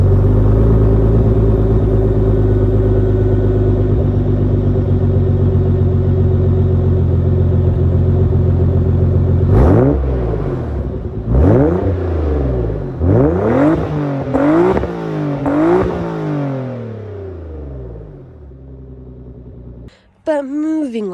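A Nissan 300ZX Twin Turbo with a 2.5-inch catback exhaust idles at a loud, steady rumble, then revs sharply several times in quick rising and falling bursts before settling, with a short final blip near the end.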